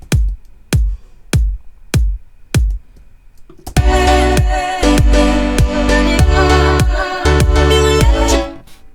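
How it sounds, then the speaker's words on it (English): Tropical house kick drum: six punchy, booming hits play alone, evenly spaced, then the kick keeps pounding under a full, dense electronic track. "It's that tropical house kick."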